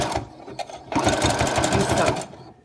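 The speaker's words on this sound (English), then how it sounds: "to back stitch by holding it down and pressing on the pedal" A sewing machine stitches hair wefts together while back stitching with the pedal held down: a short start, then a close, steady run of rapid mechanical needle thumps for over a second before it stops.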